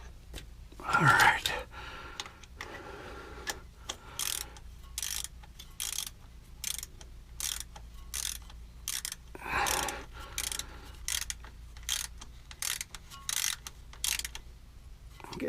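A hand ratchet snugs the neutral safety switch bolts on a 2000 Ford F-350 V10 Super Duty, giving close, repeated bursts of sharp clicking in an uneven rhythm, with quiet gaps between the strokes.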